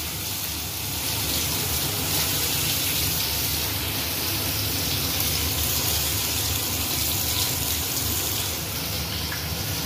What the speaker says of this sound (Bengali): জল দিয়ে দেওয়া হচ্ছে।